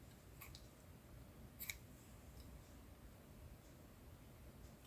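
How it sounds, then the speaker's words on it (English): Scissors snip through yarn during a Tunisian entrelac crochet project, a faint quick cut or two heard up close against a quiet hiss. "then we can cut our yarn"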